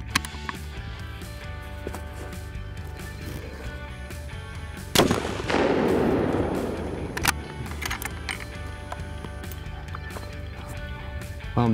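A long-range rifle fires a single loud, sharp report from close by during a box-test shooting session, followed by a rolling rumble that fades over a couple of seconds against steady outdoor noise.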